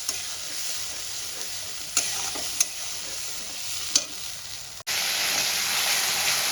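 Tomato and green chili paste sautéed in a pan for a light katla fish and potato curry: a steady close sizzle with a few sharp stirring scrapes, growing louder and brighter near the end.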